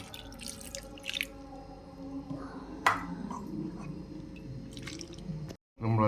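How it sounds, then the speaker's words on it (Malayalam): Tamarind water is poured into a curry of dried fish and green mango, giving faint, soft drips and splashes against quiet kitchen background, ending in a short gap. "നമ്മൾ പുളി കലക്കച്ച വെള്ളം ഒഴിക്കുക"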